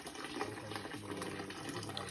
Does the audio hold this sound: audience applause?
no